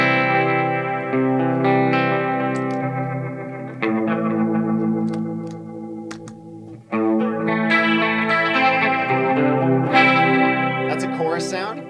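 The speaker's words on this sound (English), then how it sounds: "That's a chorus sound." Electric guitar chords run through the chorus effect of a Strymon Mobius pedal, giving a thick, shimmering, warbling tone that rings on sustained and loud, with the chord changing a few times and no voice over it.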